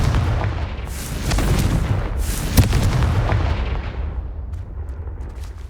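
A Confringo fire spell in Hogwarts Legacy goes off as a loud, rumbling blast with a sharp crack partway through, then slowly fades away. No one speaks.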